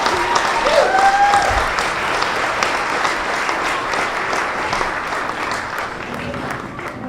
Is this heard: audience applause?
yes